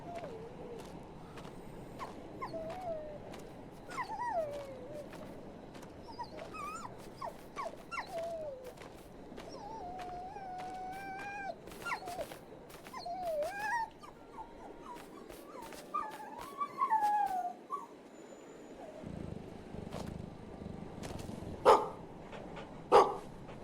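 A dog in the video game Maid of Sker whimpers and whines repeatedly, with occasional short barks and yips, over a low background hum; no talking.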